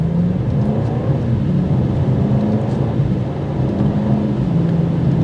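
A 2024 BMW M8 Competition pulls away from a stoplight in sport mode, its engine giving a steady low, droning rumble from inside the cabin with no voices.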